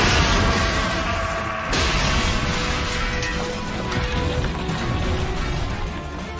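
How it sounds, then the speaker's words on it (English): Explosions in a Doctor Who TV drama scene, a dense roar of crashing booms and rumbling blasts sustained throughout, loud and close with no talking. "Where are these explosions coming from?"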